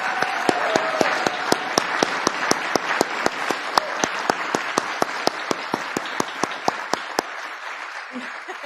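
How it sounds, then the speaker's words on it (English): Steady applause from a crowd at a White House COVID-19 briefing, with sharp individual claps standing out, continuing for several seconds before tapering off at the end. "Can we give her another round of applause?"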